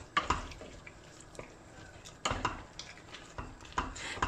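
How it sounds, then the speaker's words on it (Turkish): A spoon scrapes and knocks against a pot while tomatoes are stirred, a few soft clinks spaced out over a quiet, faintly sizzling background. "Domatesi bir güzel karıştıracağım."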